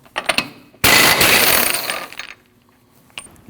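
A ratchet wrench turning the 32mm axle nut on the front wheel of a 2003-2008 Subaru Forester, brief clicks and then a loud second-long burst of metallic ratcheting close by, fading into quiet with a few light taps.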